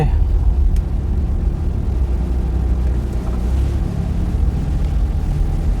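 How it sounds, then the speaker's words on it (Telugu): Steady low road rumble of traffic heard from inside a moving car, a continuous loud drone with no distinct passing events or horns. "ట్రాఫిక్ ఉన్న చోట ఆగుతానన్నమాట, డ్రైవింగ్లో ఉన్నాను కదా"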